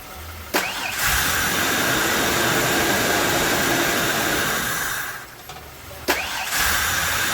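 A 1994 Ford Explorer engine cranks briefly and catches, then runs at a steady idle, with a second short crank-and-start burst near the end, heard close up.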